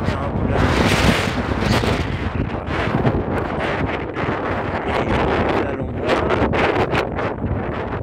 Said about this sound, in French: Un vent très important.